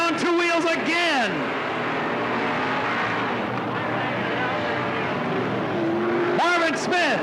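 Race cars at Riverside Speedway (Cottage Grove Speedway) in 1991, engines roaring loudly as cars sweep past, with rising and falling pitch at the start and end over a continuous din of track noise.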